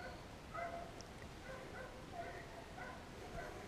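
Working dogs barking and yipping outdoors on a morning run, several short barks scattered at a moderate distance over steady wind or background noise.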